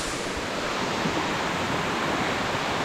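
Lanka Ella waterfall near Babarakanda falls in Sri Lanka roars in a steady, dense rush of falling water, loud and unbroken, with no voices over it.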